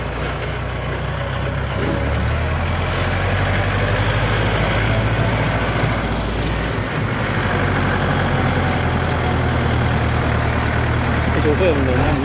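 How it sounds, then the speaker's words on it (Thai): A Kubota L4708 tractor engine drones steadily and loudly throughout, a constant low rumble with mechanical clatter, mowing grass in a palm plantation nearby. "สำหรับใครที่ชอบดูรถไถตัดหญ้าสวนปาล์มนะครับ"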